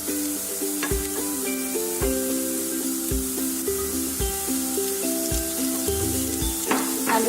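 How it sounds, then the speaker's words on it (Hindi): Ginger and green chili sautéing in a pan, a steady close sizzle and fry hiss running throughout, with scraping stir strokes roughly every second. "तो मैंने 20 से 30 सेकंड के लिए सॉटे किया है"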